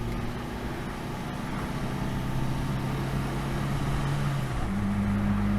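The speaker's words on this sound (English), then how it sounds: "Shall we accelerate up a little bit? Loads of grunt in 3rd gear." A 1972 Hillman Avenger engine pulling hard in third gear, heard from inside the car as a loud, steady drone whose pitch climbs slowly, then steps and rises again, over constant road and wind rumble.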